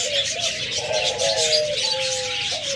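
Caged doves coo close by in soft, repeated tonal calls, with light chirps over a hissy background.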